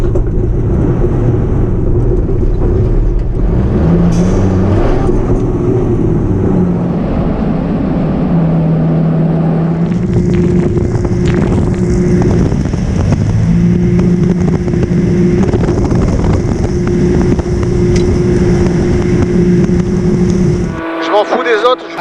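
Inside a Dakar 2020 rally vehicle, the engine drones loudly and steadily for the whole stretch, a near, unbroken roar with people talking over it.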